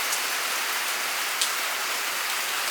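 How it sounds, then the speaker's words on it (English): Steady rain patters down on surfaces outside, a constant soft hiss with a few slightly louder drops, no voices. "We need this rain really bad."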